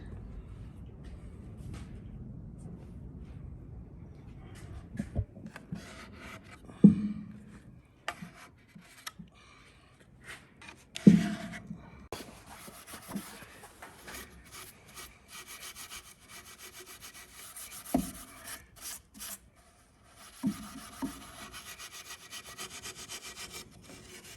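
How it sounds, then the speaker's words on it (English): Steady rough scraping of steel wool rubbed back and forth across wooden furniture while stripping its finish, close by, with a few sharper knocks and pauses between strokes. "Can you hear the steel wool working? yeah, I can hear it scraping against the wood."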